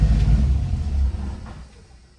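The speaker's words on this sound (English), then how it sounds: "with all the things on, can I start the car?" A 1967 Chevrolet Nova with a swapped 5.3 LSA engine and new loud exhaust, heat-soaked, fires up with a heavy low rumble close by, then drops back into a quieter idle.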